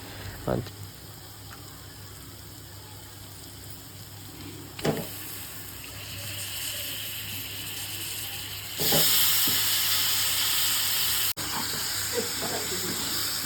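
Chicken pieces go into hot masala gravy in a pan for a Telangana-style chicken curry, giving a steady frying hiss that swells louder and brighter partway through, with a few short knocks.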